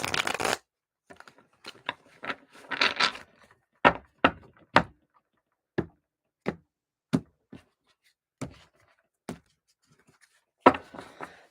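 A well-worn tarot card deck being shuffled by hand, heard as a burst of riffling followed by a series of sharp, separate card taps and snaps at an uneven rhythm, close and clear with no talking.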